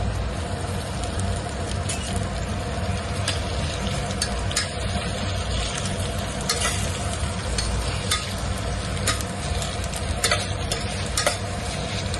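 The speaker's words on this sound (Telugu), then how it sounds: "సో ఇది నూనెలో మంచిగా వేగుతుంది." Ivy gourd curry frying in oil in a pan, a continuous close sizzle with repeated scraping clicks of a spoon stirring throughout, no voices.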